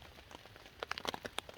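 Rain falls on a hunting blind during an archery elk hunt, a faint patter with scattered sharp drop taps that thicken into a brief cluster near the end.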